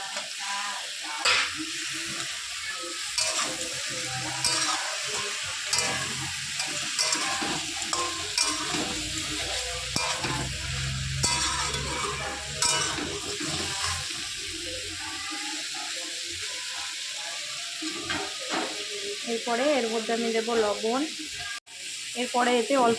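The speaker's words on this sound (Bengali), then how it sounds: "মোটামুটি ভাজা ভাজা হয়ে গেছে এবার আমি এর মধ্যে কেটে রাখা টমেটো কিছুটা দিয়ে দেবো" Chopped tomato stirred into a pan of frying food, a steady sizzle broken by scraping stir strokes, close and fairly loud throughout with no talk.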